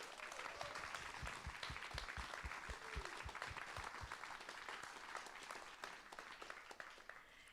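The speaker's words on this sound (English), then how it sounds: "another round of applause." A live radio show taping audience applauds steadily for several seconds, dense clapping filling the room with some louder individual claps early on before easing slightly toward the end.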